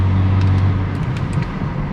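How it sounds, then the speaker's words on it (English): A car passes by on a road, a steady broad engine and tyre rumble close by and fairly loud throughout, with no talking. "Let's let this car pass."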